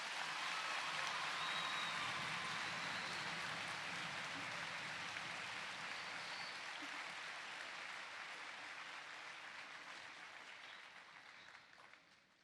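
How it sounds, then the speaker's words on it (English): Sustained applause from an assembly crowd at a Veterans Day ceremony, steady dense clapping filling the room and gradually tapering off toward the end. "Please give them one more round of applause"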